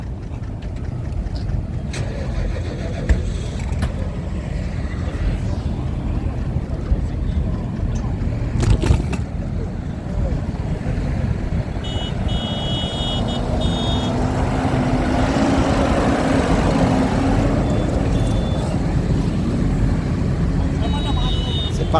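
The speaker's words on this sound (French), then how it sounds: "c'est les tracteurs verts qui partent en premier" Green tractors pull away at a farmers' protest. A continuous low engine rumble and road noise fill the street, with faint beeps and brief clanks mixed in, and the rumble rises steadily toward the end.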